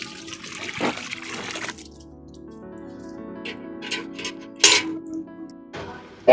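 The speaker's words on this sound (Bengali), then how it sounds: "ওই দেখো দেখে জল পড়ে যাচ্ছে বালতি ভরে।" Water pours steadily into a bucket that is filling up on a rooftop where plants are being watered, a close, continuous trickle with a few brief clanks and splashes and no talking.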